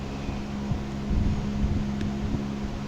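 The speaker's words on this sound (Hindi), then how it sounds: "यहाँ पे बैकग्राउंड में आपको कूलर की आवाज़ आ रही होगी" An air cooler runs steadily in a room during hot weather, giving a continuous low fan-and-motor hum with a whooshing airflow that stays level and alone throughout.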